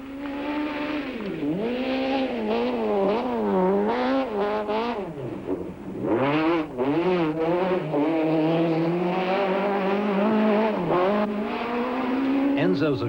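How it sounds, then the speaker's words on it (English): A four-wheel-drive rally car engine roars and revs hard at the 1992 Volkswagen International Rally, pitch rising and falling through gear changes, loud and close, with a voice talking over it. "The car, as yet untested under these conditions, does well in the hands of the very capable Habik."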